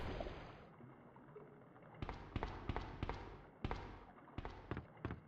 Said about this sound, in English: And let's fill up the water.